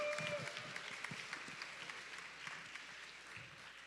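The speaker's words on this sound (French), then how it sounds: "je pense que ça mérite des applaudissements" Audience applause at a French-language music show taping, a dense wash of hand claps that is fairly faint and distant, holding steady for about four seconds with light background murmur.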